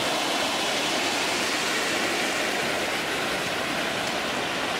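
Heavy rain and rushing water in the Nishat Bagh Mughal garden in Srinagar, Kashmir, a dense, loud, unbroken wash of noise with no voices.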